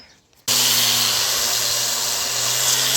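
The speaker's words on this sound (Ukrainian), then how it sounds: "Беремо болгарку, ліпучку і болгаримо." An angle grinder with a hook-and-loop sanding disc starts abruptly and runs at a steady high whine with a grinding hiss, close and loud.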